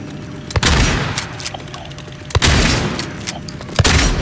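A firearm in Silent Hill 2 Remake fires several sharp, loud shots, spaced a second or two apart, each followed by a rumbling tail.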